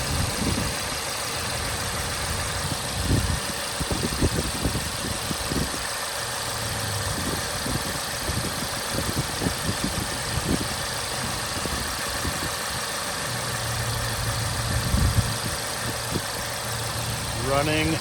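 A stock 2015 Volkswagen GTI SE idles smoothly with a steady low hum, captured fairly quietly, with brief voices and handling noises over the engine.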